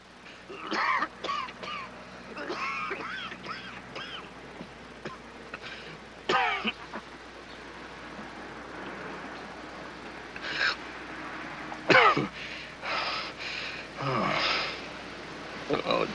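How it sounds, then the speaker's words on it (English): In a 1941 film noir, a man coughs and clears his throat in several rough bursts spread across the scene, alternating with people talking over a low room hum. "He's been keeping everybody awake with his coughing and wheezing."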